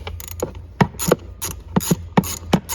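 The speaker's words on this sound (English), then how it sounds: "I'm going to get my extension and my ratchet in here enough so I can just break it" A ratchet with an extension breaks loose and backs out a tight 10 mm screw on the gear shifter trim of a 2005-2009 Ford Mustang, giving close, loud bursts of rapid clicking in a quick repeating rhythm with no talk.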